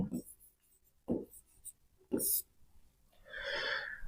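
Someone writes on a board during a maths lesson, producing short scratchy strokes in bursts, interspersed with a voice nearby.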